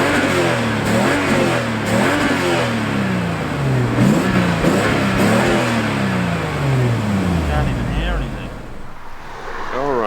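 A Toyota Supra spinning its wheels on a wet road, the engine revving up and down repeatedly in loud rising and falling sweeps before easing off near the end.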